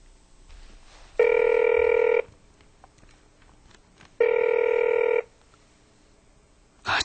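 A telephone rings unanswered inside a home, two long electronic ring bursts a few seconds apart with a brief start of a third at the end, clear and fairly close with no talk.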